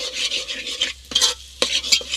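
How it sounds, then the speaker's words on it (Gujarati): Minced meat keema gets stirred in a pan with a spoon, close up, making scraping, sizzling strokes in short uneven bursts with brief gaps and no talking. "જ્યાં સુધી પાકે નહીં ત્યાં સુધી હલાવીશું"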